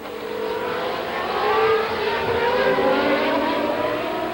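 Formula 1 cars at the 1993 Japanese Grand Prix at Suzuka, a continuous high engine whine with rising and falling pitch as the cars stream past at moderate distance, steady and without talk.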